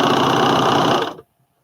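A home sewing machine runs at full speed stitching overalls, a steady close mechanical whir and buzz that stops abruptly after about a second, leaving near silence.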